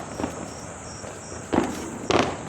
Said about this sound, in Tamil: எல்லா வெடியும் வாங்குறதுக்கு இந்த வெடி வாங்கி போட்டுடலாம்.